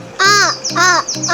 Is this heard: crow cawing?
yes